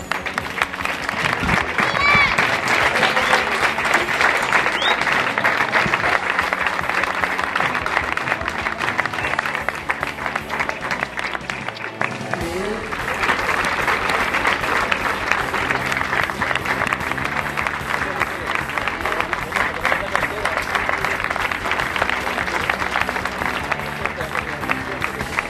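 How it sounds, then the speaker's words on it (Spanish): Audience applause at a sports club's season presentation ceremony, a sustained dense wash of clapping from a large crowd that dips briefly midway and then resumes, with some crowd voices mixed in. "Un fuerte aplauso."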